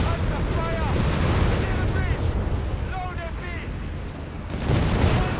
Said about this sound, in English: Mortar firing down death there.